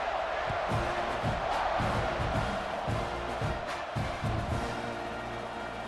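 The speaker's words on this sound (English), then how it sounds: "this crowd is buzzing after that last score" Stadium crowd noise in the video game College Football 26 during an Alabama versus Texas A&M matchup, a dense roaring buzz with swelling cheers and whoops that runs continuously beneath a commentator's voice.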